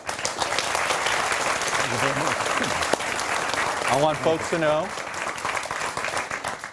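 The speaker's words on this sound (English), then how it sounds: "Let's give them a round of applause." Live audience applause welcoming North Carolina gubernatorial debate candidates, a broad steady clatter of clapping with someone speaking over it partway through.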